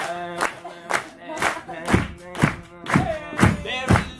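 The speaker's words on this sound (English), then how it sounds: "I'm gonna need everybody to clap with me" An audience at a poetry slam claps in unison, about nine heavy, evenly spaced claps, with a voice chanting or calling over the beat.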